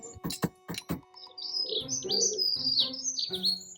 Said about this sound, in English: Those birds cheering me on